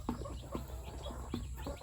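A brood of freshly hatched, large-breed chicks cheeps in quick, scattered bursts nearby, each peep short and bright over a steady low hum.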